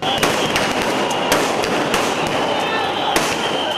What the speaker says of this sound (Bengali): গুলির শব্দ ক্যামেরাতেও রেকর্ড হয়েছে শত শত রাউন্ড গুলি ছুটতেও দেখা যাচ্ছে